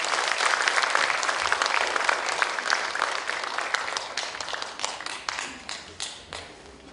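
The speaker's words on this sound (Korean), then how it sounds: "큰 박수로 맞아주시기 바랍니다." An audience at a children's composition concert greets the young composers with lively applause that thins out toward the end into a few sharp, separate claps.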